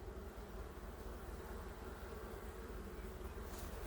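Honey bees buzzing at an open hive, a dense, continuous drone of many wings close by, steady and unbroken with no voices over it.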